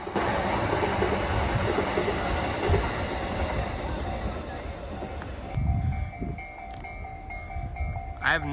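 A long commuter train of 10 to 15 cars rolls steadily past a railroad crossing in Tokyo, with a loud continuous rumble and rattle of wheels. The rumble drops away near the end, leaving the crossing bell ringing.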